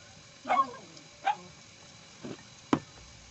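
A dog out in the mountains of Antipolo gives a few separate short barks and yips, spaced about a second apart at moderate distance, with faint background hiss.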